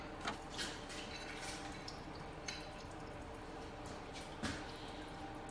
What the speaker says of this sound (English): Looks like more water coming out, or antifreeze.